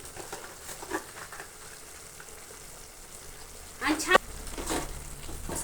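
Vegetables sizzle gently in a pan for a Bhogi mixed vegetable dish with crushed peanut powder. A spoon stirs and scrapes briefly at close range partway through, and the soft frying continues afterward.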